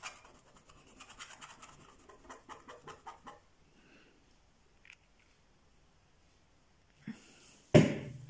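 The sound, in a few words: scraping the inside of a glove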